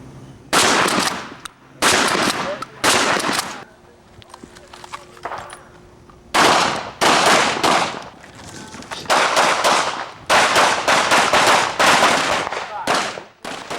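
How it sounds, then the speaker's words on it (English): Handgun shots at a police academy shooting range come in sharp, loud bursts of a few rounds each, separated by short pauses, with a faint voice between volleys. "We allow them to shoot approximately 3 rounds."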